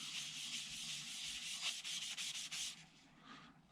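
A cloth wiping water-based Brusho watercolour onto wood, a soft continuous rubbing swish close by, with a few quicker strokes near the middle before fading out.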